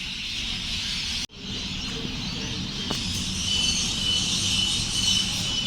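A Sydney train departs Epping station with a steady mechanical rumble and high hiss. A brief cut breaks the sound early on, and the noise swells slightly as the train pulls away. No one speaks.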